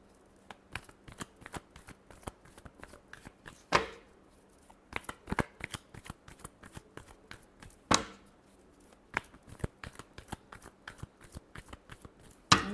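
Tarot cards are shuffled close up in a quiet room, a long run of crisp, quick slaps and riffles coming in uneven bursts, alone without talk.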